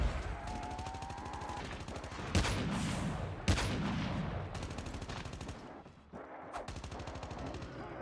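Call of Duty Mobile zombies mode gunfire, rapid automatic bursts with a few heavier blasts, dense and loud over game noise with no gaps, with a brief pause near the end.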